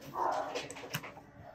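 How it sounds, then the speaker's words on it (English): A playful dog close by lets out short yips and whimpers, a brief bark-like burst near the start and a sharper yelp midway, with no speech. "the dog's having too much fun today"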